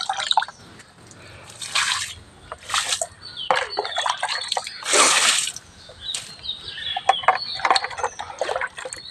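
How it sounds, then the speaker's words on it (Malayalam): Rice water poured straight onto a plant, undiluted, in a garden with a Sri Lankan jasmine nearby: close, uneven splashing and dripping in several short bursts, with a heavier gush in the middle, heard alone. "ഇതിലൂടെയൊക്കെ കുറച്ച് ഒഴിക്കും"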